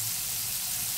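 Paneer tikka coated in flour fries in oil, a constant soft hiss of sizzling at moderate level with no other sounds.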